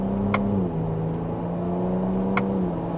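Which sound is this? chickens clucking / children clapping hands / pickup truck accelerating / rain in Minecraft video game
pickup truck accelerating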